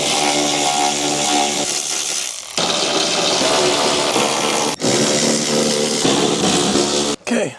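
A power ratchet or impact tool runs loud and close, almost without a break, spinning out small 10 mm bolts on a Honda Civic, with only a couple of brief dips in the whirring drone.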